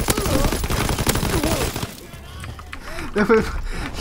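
Incendiary shotgun shells fire in the World War II shooter Call of Duty WW2. A dense burst of blasts and crackling, shattering impacts dominates the first half, then fades to sparse, quieter shots while voices talk over it.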